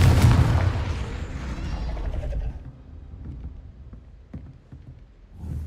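A Confringo explosive spell in Hogwarts Legacy bursts with a heavy boom at the start, then rumbles and fades, leaving scattered faint knocks and a softer thud near the end.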